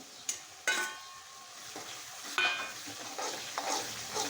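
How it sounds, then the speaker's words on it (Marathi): Fried paneer goes into a pan of oily masala and gets stirred, with a sizzling bed broken by several distinct scrapes and knocks of the spoon against the pan. "त्याच्यामध्ये आता मी पनीर टाकणार आहे"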